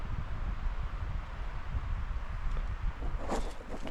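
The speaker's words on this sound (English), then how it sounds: "there's wind in the high treetops" Steady wind moving through high treetops in a woodland at night, a soft broadband rushing that stays even throughout, with a faint rustle near the end.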